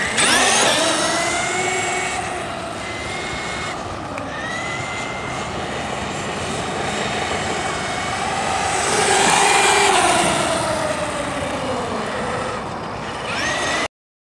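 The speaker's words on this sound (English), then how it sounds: "The original T-Maxx, and it's got an electric motor in it." Traxxas T-Maxx RC truck with an electric motor driving about, a whining motor drone whose pitch rises and falls as it speeds up and slows, louder as it passes near, then cutting off.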